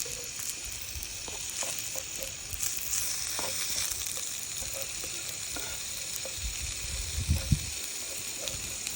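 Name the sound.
garlic and onions frying over an open fire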